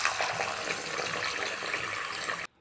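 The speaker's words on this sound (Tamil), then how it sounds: "அரிசியை வந்து இப்போ நல்லா அலசலாம்." Steady rushing water runs for over two seconds, a continuous splashing wash of rice being rinsed in a bowl, then cuts off abruptly.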